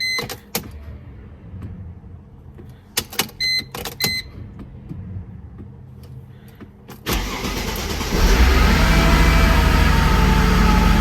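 A few clicks and whirring relay sounds, then a Mercedes-Benz C32 AMG engine low on fuel cranks and catches, settling into a loud, steady running roar.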